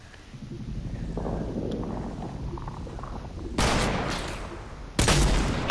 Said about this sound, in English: Okay, shoot at me.